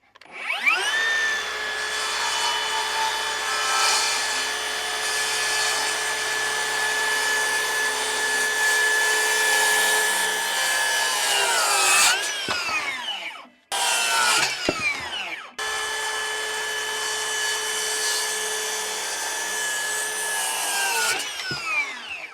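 A hand saw cuts through a timber frame beam in long, steady back-and-forth strokes, close and loud, with a brief pause and a restart near the end before the cut finishes.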